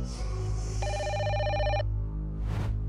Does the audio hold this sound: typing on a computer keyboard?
no